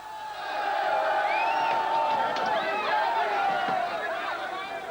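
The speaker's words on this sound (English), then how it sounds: "The crowds bayed outside the chamber itself, then ripped the doors from their hinges." A loud crowd shouts and cheers inside the Georgian parliament building, a mass of raised voices, whoops and cries that swells and stays chaotic throughout.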